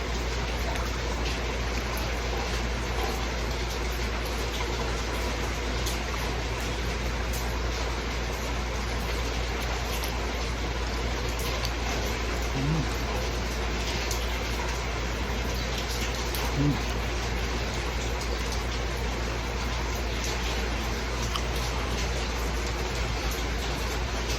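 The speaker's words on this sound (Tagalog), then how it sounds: "Ito po, ang ganda ng background music ko. Yung yung ulan." Steady rain falls outdoors during home cooking, a continuous even hiss and patter throughout, with faint voices now and then.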